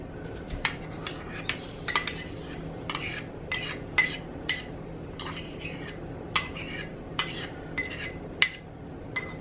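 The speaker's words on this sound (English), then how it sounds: "We're going to give it a little mix around." A utensil scrapes and clinks against a pot while beeswax pellets and coconut oil are stirred together for lip balm, producing a steady series of light metallic taps at close range over a low background hum.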